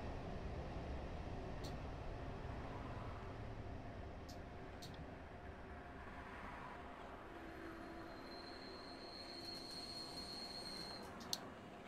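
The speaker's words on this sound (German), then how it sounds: "Ich höre schon, wo irgendwo wieder eine S-Bahn." S-Bahn train in Train Simulator 2022 on the Berlin line, a steady distant rumble of rolling wheels with faint high squeals and occasional clicks, no talking.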